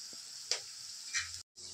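Turmeric and chili powder sizzle softly in hot oil while frying for a chicken curry: a steady close hiss with a few clicks and stirring scrapes, broken by one brief gap.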